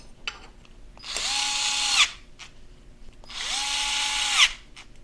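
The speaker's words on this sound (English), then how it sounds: "I'm going to make things easier on myself and use this electric screwdriver" An electric screwdriver drives fasteners into a Mabett no-drill license plate mount on a Ford Maverick, two close, whirring bursts of about a second each with a rising motor whine and clicks between them.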